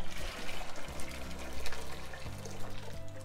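Kettle water poured over a pony to wash it: a steady, close splashing pour with a gently pulsing flow, alone without voices.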